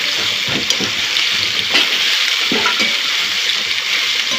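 Bottle gourd curry sizzles in a pan while being stirred, a steady hiss of frying broken by scraping and stirring knocks at an uneven pace, close and fairly loud.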